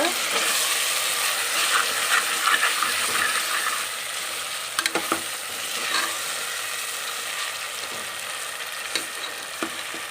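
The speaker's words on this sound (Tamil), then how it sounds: "இஞ்சி பூண்டு பேஸ்ட் வந்து நமக்கு ரொம்ப நல்லா ஃப்ரை ஆகணும் தீஞ்சு போகாமல்" Ginger garlic paste frying in a pan, a dense, bright sizzle close by with intermittent scraping and clicking stirs of a spoon against the pan.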